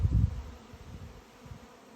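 A huge swarm of honeybees buzzing outdoors in August, a steady low drone that is loudest at first, then continues fainter.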